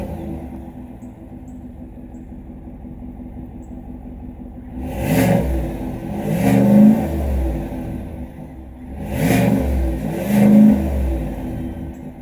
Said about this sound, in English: these are the new active exhausts from Chevy, so this is gonna have a real mean sound